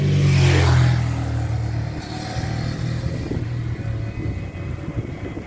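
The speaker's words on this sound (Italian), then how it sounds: "Adesso passa una moto." A motorcycle passes loudly on a mountain road near San Bernardo, its engine roaring close at first, then fading as it moves away, heard alone.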